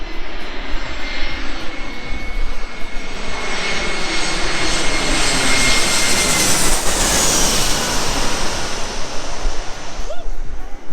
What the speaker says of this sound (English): There's a plane on its way.